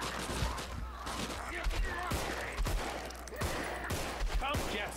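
Gunfire in the co-op game Extreme Contagion comes as scattered, irregular shots and short bursts mixed with other game noise and background talk.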